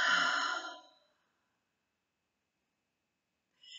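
A deep breath taken during a guided heart-centred practice: one long, soft exhale lasting under a second, then silence until a faint breath begins again at the end.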